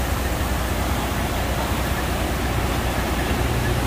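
A swollen river rushes steadily after hours of heavy rain, a loud, dense, continuous roar of water heard close and without pause.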